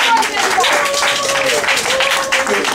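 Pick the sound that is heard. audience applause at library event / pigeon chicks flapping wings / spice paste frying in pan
audience applause at library event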